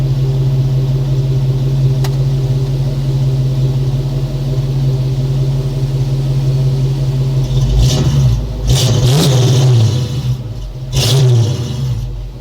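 A car named Katy, fitted with a new exhaust, idles with a steady low rumble, then gets several short, loud revs near the end, each blipping up and falling back.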